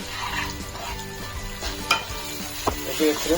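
Egg and potato bhujia is stirred in a pan over high flame. A loud, continuous sizzle runs under scraping stirring strokes and a few sharp knocks of the spatula.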